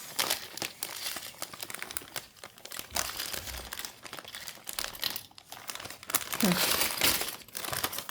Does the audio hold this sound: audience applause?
no